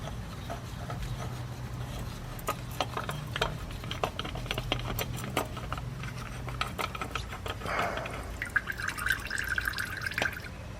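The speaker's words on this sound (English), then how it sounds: "Still draining it. There's like coolant and oil coming out of it, as you can see." Coolant and oil drain from a removed oil cooler on a WRX, dripping in scattered, irregular taps close by, joined by small metallic clicks and clinks from the work.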